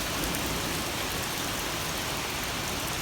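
Heavy rain pours down loudly during a Kentucky thunderstorm, a dense, unbroken roar of drops hitting surfaces that fills the whole stretch with no voices.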